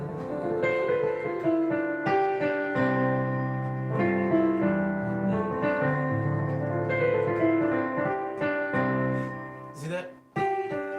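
Keyboard playing a song passage with a sustained, organ-like voice, steady chords and melody held continuously and loudly throughout, ending with a brief pause and a final struck note.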